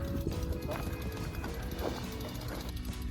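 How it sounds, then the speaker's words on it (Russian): Hooves of a French horse clip-clop along a road in Switzerland, heard during a bikepacking trip through France and Italy, a steady walking rhythm fairly close amid outdoor background noise. "Честь, французский конь."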